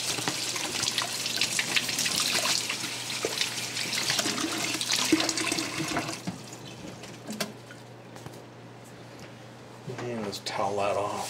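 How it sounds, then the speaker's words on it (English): Tap water runs steadily into a sink as a piece of laser-etched clear acrylic is rinsed, a continuous splashing rush that thins and drops off near the end before a brief return, with a low hum underneath. "Let's just take it into the sink in here and I'll give it a quick rinse."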